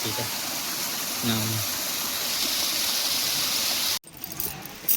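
Steady broadband rush of a waterfall swollen by heavy monsoon rain fills the clip, loud and continuous, with a brief voice early on and an abrupt cut near the end.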